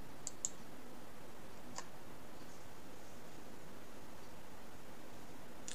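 A few faint, sharp clicks from a computer mouse button, spaced seconds apart over a low steady hiss, with no talking.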